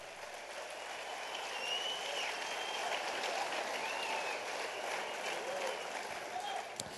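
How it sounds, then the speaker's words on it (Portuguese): A congregation at a revival conference claps together in a dense, steady wash of applause that fills the whole stretch without a break, with no clear speech rising above it. "Você pode aplaudir ao Senhor?"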